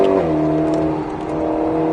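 Alpine A110S accelerating on the Grand Circuit du Roussillon, a loud, close, steady engine whir with a shift in pitch just after the start, then a sustained pull.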